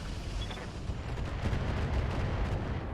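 A volley of LRM missiles fires at a Warrior mech in the RogueTech battle game, a dense rumble of overlapping launches and distant booms rolling on steadily for a few seconds.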